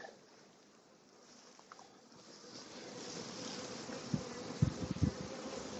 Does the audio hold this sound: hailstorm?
no